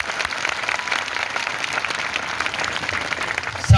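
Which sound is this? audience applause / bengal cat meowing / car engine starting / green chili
audience applause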